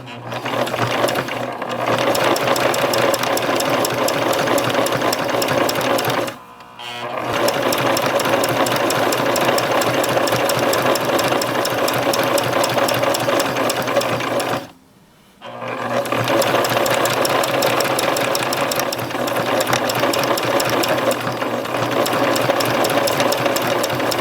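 A sewing machine stitches around the edge of a fabric bow in long, steady runs of rapid mechanical chatter, stopping briefly twice before resuming, close and clear with no talk.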